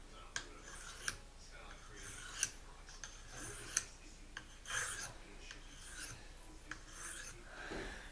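A knife blade scraped back and forth across a Tri-Hone sharpening stone in a steady rasping rhythm, close and fairly quiet, with a few sharper ticks as the edge catches.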